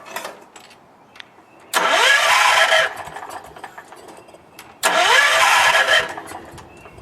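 A Wheel Horse C101 garden tractor's small engine revs up twice, each burst holding high for about a second before dropping back to a low idle.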